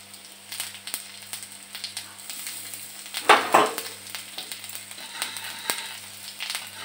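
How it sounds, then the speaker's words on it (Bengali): Whole cumin and ginger hit a pan of reddish-fried onions as a tempering, giving a sudden loud crackling sizzle burst midway amid quieter stirring and light frying noise. "আমি এখন দিয়ে দেবো এর মধ্যে একটু জিরে, গোটা জিরে আর আদা ফোড়ন।"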